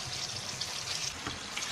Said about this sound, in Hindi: अब इसमें हम ये थोड़ा सा पानी डाल रहे हैं।